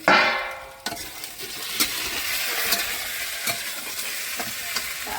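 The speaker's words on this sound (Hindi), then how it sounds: "काट के एकरा थोड़ा सा तेल डाल कर हम भूज रहे हैं।" Peeled potatoes cut into rounds fry in a little oil with a loud, continuous sizzle that starts with a hot burst, while a utensil stirs and scrapes the pan at intervals, close up and with no talk.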